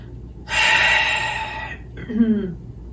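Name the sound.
deep yoga breath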